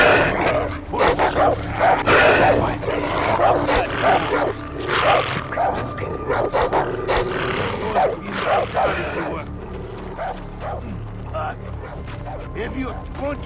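Dogs barking and yipping in Far Cry 3, a series of sharp barks and whimpers close by with a person talking over them, growing quieter and sparser toward the end.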